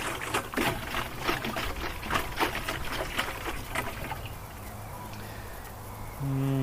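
Water trickling and pouring into a container of plant feed at an allotment, a steady close splash lasting several seconds before easing off, with a brief voice near the end.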